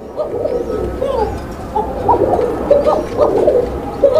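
A pair of Basiraj pigeons on a breeding farm coo repeatedly and almost without pause, close and fairly loud, with overlapping rolling calls and no talk.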